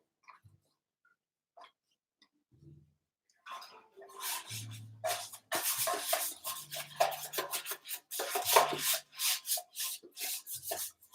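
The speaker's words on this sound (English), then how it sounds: "So we'll grease the tray up" A baking tray is greased by hand, with repeated close rubbing and scraping strokes of uneven length after a few quiet seconds with only faint taps.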